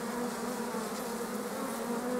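Honeybees swarming over a hive frame during colony splitting give a dense, continuous buzzing hum, close and steady without pause or voices.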